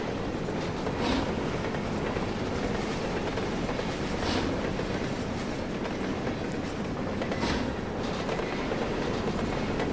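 A PKP Pm-2 steam locomotive runs in the Trainz 2012 simulation game near a roundhouse, a steady loud rumble with rhythmic clickety-clack wheel beats and periodic hissing, no voices.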